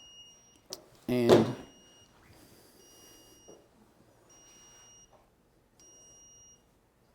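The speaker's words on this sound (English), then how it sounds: "This makes it so you'll be able to hear that alarm in the house or in your shack or in your hub." A loud ice fishing tip-up alarm lets out a short burst of shrill beeping, followed by fainter intermittent electronic tones with brief speech nearby.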